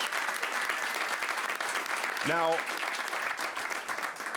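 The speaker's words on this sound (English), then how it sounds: "Let's give him a big round of applause," Audience at a magic show breaks into loud, sustained clapping and cheering that fills the whole stretch, with a host's voice briefly rising over the applause.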